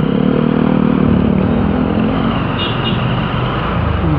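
A motorcycle engine runs at steady high revs in second gear on a road near Palembang's old airport, a continuous loud drone with road noise and no pause.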